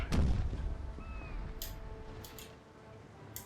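A heavy booming cannon blast from a ship's starboard guns in the naval battle game Napoleonic Total War III, followed by a rumbling tail and scattered distant cracks; no talk is heard.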